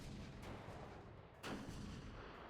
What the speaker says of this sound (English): Gunshots haven't stopped the battle.